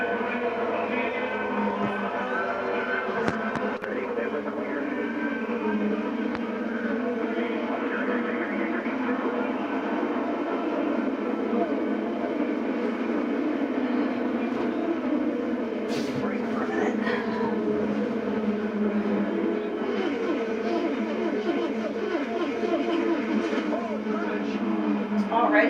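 Indianapolis 500 race cars roar through the start at the speedway, a continuous dense engine drone with crowd and broadcast commentary layered over it, steady and loud throughout.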